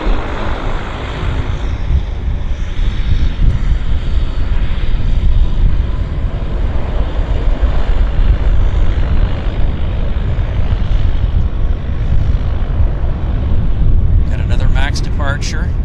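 A departing aircraft at Vancouver Airport roars loudly and close, a dense rumbling engine noise that stays strong throughout, with brief clicking sounds near the end.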